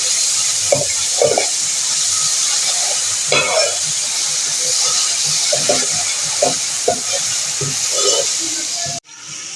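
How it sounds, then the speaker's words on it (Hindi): Ginger garlic paste sizzles and fries with reddened onions in a pan, a steady broad hiss with scattered stirring scrapes throughout and an abrupt drop near the end. "मैं इसमें डालती हूँ ये लहसुन अदरक का पेस्ट, इसको भी मैं 1 मिनट भून लूँगी"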